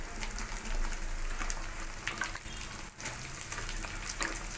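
Potatoes fry in hot oil for a potato and spinach curry, a continuous soft bubbling sizzle at moderate distance with gentle rises and dips in intensity.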